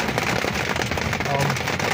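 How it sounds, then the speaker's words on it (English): Rain drumming on a trailer roof in Georgetown, Kentucky, a dense, loud, crackling patter of drops that continues without a break. "It's raining, so the noise you hear in the background is hitting my trailer."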